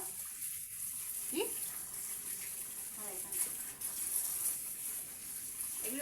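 Potatoes, chicken, ginger, onion, garlic and pumpkin being washed, with a steady wash of running water throughout and faint handling splashes, a brief spoken word over it.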